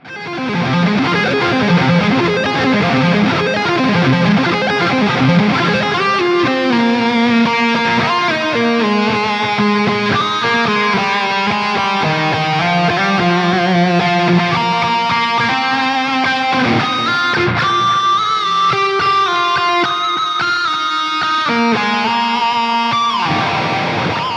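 A distorted electric guitar plays a flowing lead line through a Quad Cortex into a Bose S1 Pro speaker using its built-in reverb, notes ringing out with echoing repeats and a spacious reverberant tail, loud and alone.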